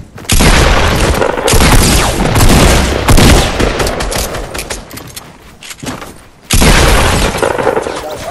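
Gunfire from the side in Battlehawk, loud dense volleys of shots and booming impacts in two long stretches split by a short lull, with a voice talking over them.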